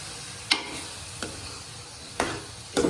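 Spoon stirring potatoes in a cooking pot, four separate scraping knocks spaced apart over a quiet, low kitchen background.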